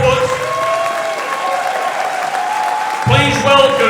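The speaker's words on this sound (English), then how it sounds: "Keep that applause going" A studio audience at a live show claps steadily for a couple of seconds, loud and close, with a burst of voices and cheering joining near the end.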